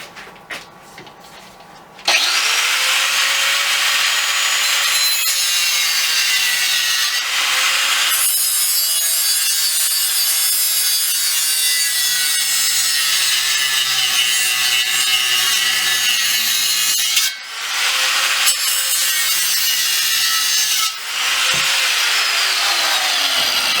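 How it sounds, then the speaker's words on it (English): A flap wheel on an angle grinder strips paint from a steel propane bottle, producing a loud, harsh, continuous grinding rasp up close that runs nearly nonstop, with a few brief dips as the wheel lifts off. "I'm just taking the paint off with a flapper wheel on my grinder."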